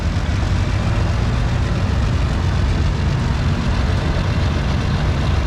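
Steady low rumble of a 1966 model 1206 tractor engine driving in a tractor parade, continuous and fairly loud throughout with no voices.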